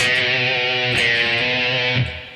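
Distorted electric guitar playing the ending phrase of the riff, a loud close sustained chord with a couple of re-struck notes before fading at the end.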